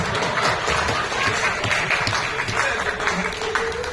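Audience clapping at a Big FM Big Laughter Fest comedy show, a steady dense patter of applause filling the whole stretch with faint voices mixed in.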